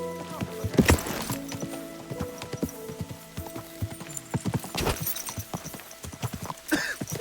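Horse hooves clip-clop in a steady rhythm as a rider travels on horseback in the medieval game Kingdom Come: Deliverance 2, with a few louder thumps and faint mechanical clinks alongside.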